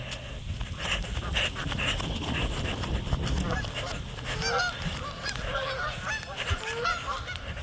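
Many Canada geese fly over a lake in a neighborhood, their honks rising in a busy, overlapping chorus that carries steadily above a low background rumble.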